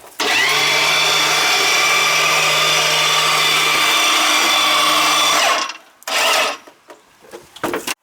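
A motorised lift machine carries a new oil boiler unit up the stairs during delivery, giving a loud, steady whirring mechanical drone for about five seconds that then stops, leaving brief bumps and handling noises.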